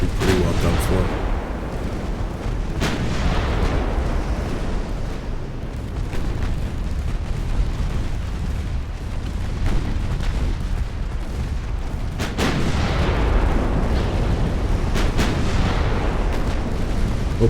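Naval battle in Ultimate Admiral Dreadnoughts, with dense, continuous rumbling gunfire and booming shell impacts, heavy low-end blasts rolling on throughout and sharper cracks scattered across it.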